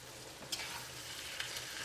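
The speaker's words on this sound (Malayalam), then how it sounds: "ഇത് നന്നായിട്ടൊന്ന് മിക്സ് ചെയ്തിട്ട് നമുക്കൊരു മീഡിയം ഫ്ലെയിമിലിട്ടിട്ട് കറി വേവിച്ചെടുക്കാം" Chicken curry for a Kerala Christmas dish stirred and cooking in a pan, a steady close sizzle with a couple of brief scraping stir strokes, no talk.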